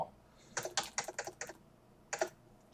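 Fingers type a library card number on a computer keyboard, a close quick run of light clacking keystrokes, then a short pause and two more taps.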